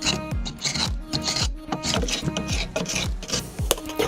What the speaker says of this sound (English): The first step was to scrape off as much old paint as possible.